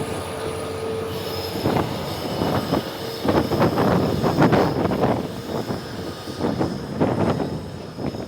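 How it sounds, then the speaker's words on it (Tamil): A train rumbles past in strong storm winds with rhythmic clacking bursts from the wheels and a faint metallic squeal, fairly loud and close. "இப்போ இன்னும் கொஞ்ச நேரத்தில் ரயில் வரப்போது"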